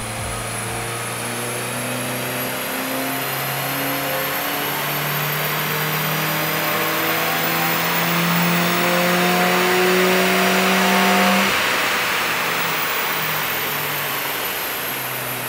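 A Peugeot car with a downpipe, intake and pod filter runs up on a front-wheel dyno, its engine note climbing steadily through the gears, loud and close, with no speech.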